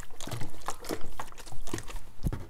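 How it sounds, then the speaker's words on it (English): A bottle of hydroponic nutrient solution is shaken vigorously, producing rapid sloshing and liquid churning in uneven bursts close to the microphone. "Just give that a good shake, make sure it's well mixed in."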